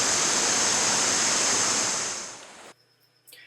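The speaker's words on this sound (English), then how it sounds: "we've just arrived here at this beautiful clear river" Clear river water flows in a loud, continuous broadband rush that holds steady, then fades and cuts off abruptly near the end, leaving faint quiet sounds.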